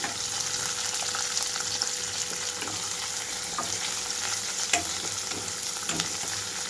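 Onions, green chillies, curry leaves and mint sprigs fry in hot oil for a greens masala curry, a steady loud sizzle close by with occasional stirring scrapes and small pops.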